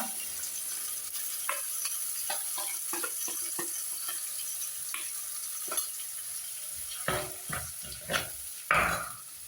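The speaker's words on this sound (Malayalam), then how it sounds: "ഇതിലേക്ക് നമ്മൾ നേരത്തെ ചേർത്ത് വെച്ചിരുന്ന അരപ്പം ഒഴിച്ചു കൊടുക്കുകയാണ്" Wet ground spice paste sizzles as it is poured into a hot pan, with a series of sharp clinks and scrapes that grow louder toward the end, over a steady background hiss.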